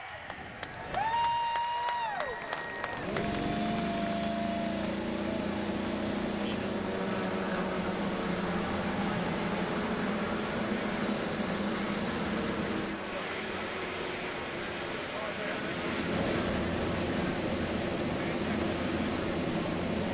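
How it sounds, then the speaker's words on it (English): Engines firing up on the IndyCar grid at Texas Motor Speedway, a dense roar that builds and holds beneath crowd cheering, with a rising tonal whine at the start before the engine noise settles into a sustained wall. "Drivers, start your engines!"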